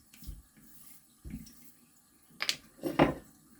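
Water splashing over a sharpening stone being washed off under a running tap while honing an early Sheffield full hollow razor, a few short near splashes and trickles with quiet gaps between them.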